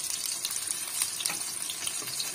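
Fish cutlets frying in a pan, a steady close hiss of hot oil with faint crackles and pops throughout.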